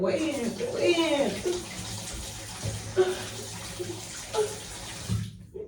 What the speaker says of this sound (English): Now wash my face